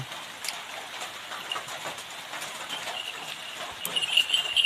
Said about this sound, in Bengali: বৃষ্টি হচ্ছে বুঝতে পারছেন বৃষ্টি হচ্ছে